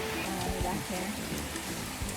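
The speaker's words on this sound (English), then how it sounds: "it's super heavy rain right now." Heavy rain pours down during a thunderstorm, a dense, continuous hiss close by. Faint voices sit under the downpour.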